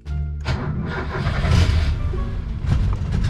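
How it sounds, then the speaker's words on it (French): A Lada Niva engine cranks and catches, then runs with loud, rough revving that swells and dips a couple of times, close by. "Essai numéro 2, démarrage Lada Niva"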